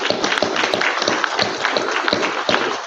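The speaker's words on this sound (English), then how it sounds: "let's give the local organizing committee a big round of applause." Conference attendees at a keynote session give a round of applause, with a full crowd of clapping hands and sharp individual claps standing out in a steady, close rhythm.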